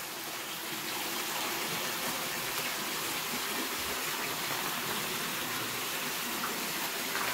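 Water gushes and splashes continuously onto a foam-and-stucco rock, a steady hissing, spattering wash at moderate distance with no talking.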